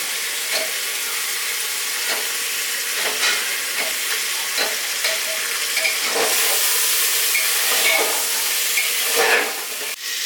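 Desi chickpeas and potatoes frying in a pan for a restaurant-style chickpea curry, a steady hissing sizzle broken by regular spatula stirring strokes and no talking.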